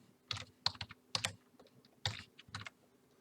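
Close, quiet typing on a computer keyboard: a few short bursts of distinct key clicks with brief pauses between them, no voices.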